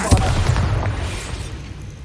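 Bombarda spell blasting in a Hogwarts wizarding video game: a sharp booming burst at the start, followed by crackling debris that fades over about two seconds.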